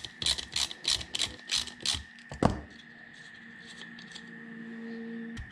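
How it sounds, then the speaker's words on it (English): A socket ratchet turns an 8mm bolt on the heater blower motor of a 40 Series Land Cruiser, with about two seconds of rapid, rhythmic clicking up close, then a single clunk before a low hum. "So let's get our little socket on there."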